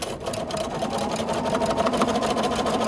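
A sewing machine runs steadily at an even pace for free motion quilting through layers of quilt top and backing, a close, continuous mechanical whir with no talk.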